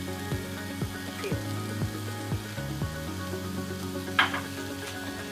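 Masala for chole sizzles steadily in a pan while a utensil knocks and scrapes through it at a slow, irregular pace, close and moderately loud, with a low hum underneath and no talking.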